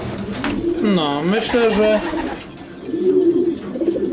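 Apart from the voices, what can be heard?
pigeons cooing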